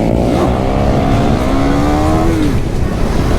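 A loud KTM Duke 390 BS6 motorcycle engine drones and revs continuously while riding, its pitch rising and falling, with heavy wind-like road noise throughout and no speech.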